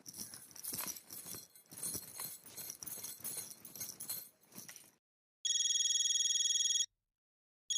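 A mobile phone rings with a bright electronic tone, loud and steady for over a second, then starts again after a short silence, following several seconds of jangling clatter.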